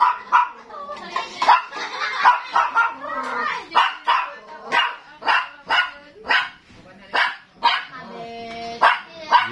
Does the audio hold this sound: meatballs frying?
no